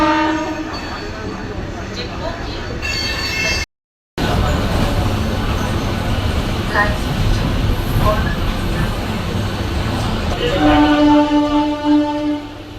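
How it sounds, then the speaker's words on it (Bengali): A train leaving Howrah rumbles and clatters steadily from inside a carriage, with a brief dropout midway and a horn-like tone near the end, loud and continuous. "এবারে ট্রেনটা ছাড়বে।"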